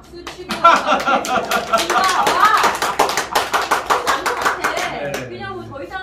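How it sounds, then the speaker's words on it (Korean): A small studio audience claps in a loose rhythm during a talk-show taping, fairly close and loud, with chuckles mixed in before the clapping fades out. "여기서 박수 치고"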